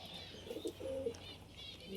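Pigeons housed in a loft coo softly in a few low, rounded bursts, fairly close, with faint chirps and rustling around them and no talking.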